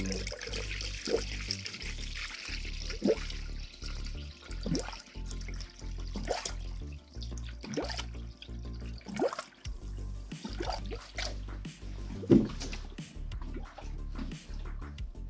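Water being poured into the cooling system of a Nissan 350Z, a steady splashing, gurgling flow with irregular surges and glugs, close and fairly loud throughout.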